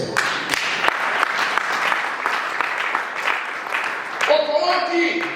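A church congregation claps together, a dense sustained round of applause with sharp irregular claps, and voices rise near the end.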